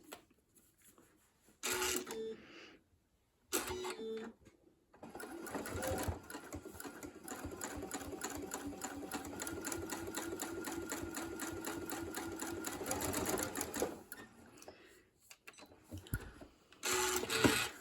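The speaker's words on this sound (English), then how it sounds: "I'm going to sew that 1/4 inch seam allowance for that." A sewing machine stitches a quarter-inch seam on pinwheel quilt blocks, with a few short bursts early on, then a long steady rapid chatter of about nine seconds, with more short runs near the end.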